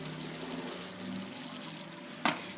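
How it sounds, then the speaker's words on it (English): Water runs steadily over macaroni being rinsed in a kitchen and left to drain, a continuous close pouring hiss with one brief louder splash near the end. "rinse your macaroni a little bit so it's not so starchy. Okay? And let it drain"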